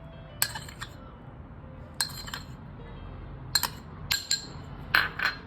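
Cornflour spooned into a bowl with soaked soya chunks and stirred, giving several sharp, separate clinks of a spoon against the bowl over a quiet background, with no talking.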